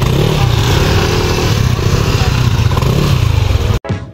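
Motorcycle engines run steadily at a motorcycle wash in Leyte where muddy wheels are being cleaned, a loud continuous rumble with clattering and rough revving, cutting off abruptly near the end.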